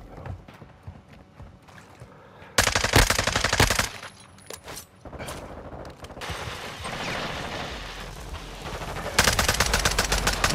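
FSS Hurricane submachine gun fire in Modern Warfare II: loud, rapid automatic bursts break out in several separate stretches over a busy game background with no talking.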